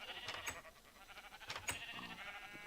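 Sheep bleat in the Minecraft video game, played with the FTB modpack: a few short, nasal bleats, some overlapping, faint and spaced irregularly over a quiet background.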